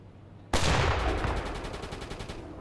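Gunfire from the naval video game UBOAT: one sharp, loud burst opens a rapid run of repeated shots in even, fast rhythm, fading gradually over a couple of seconds.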